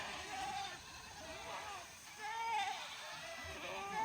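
Young billy goats bleat a few times in a brush pasture, faint and somewhat distant wavering cries over a low background hiss.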